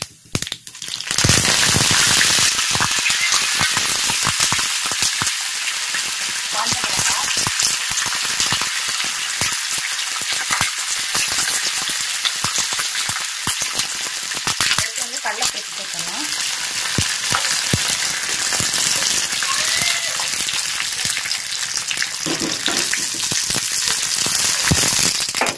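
Curry leaves hit hot oil with popped mustard seeds and urad dal for a lemon rice tempering, a loud, dense, close sizzle with crackling spatter that carries on steadily after the initial burst.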